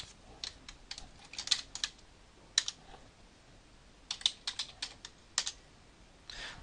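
Quiet, close clicking of computer keyboard keys as a short command is typed, in irregular bursts of quick taps with brief pauses, over a faint background hiss.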